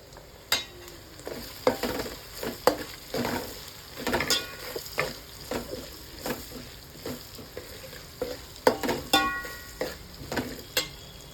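Green chillies frying in a pan for Rajahmundry-style chicken biryani, with repeated scraping stirs and bursts of sizzle recurring every second or so, close and moderately loud, with no talking.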